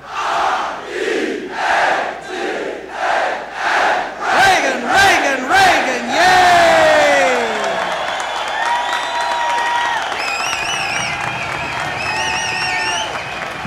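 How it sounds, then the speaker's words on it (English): High school students at Gordon Technical High School chant a cheer for President Reagan in rhythmic crowd bursts, then break into loud sustained cheering, whistles and applause from a large gathering. "It's highly unlikely that President Reagan didn't hear the cheer, but just to be sure, let's do it one more time."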